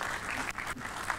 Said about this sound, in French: Je vous demande de l'applaudir s'il vous plaît.